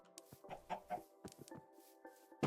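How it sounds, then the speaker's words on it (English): Minecraft chickens cluck in short, close, bursty calls, a quick series of clucks and pecking blips ending in a louder squawk, with no talking. "Come here, chicken."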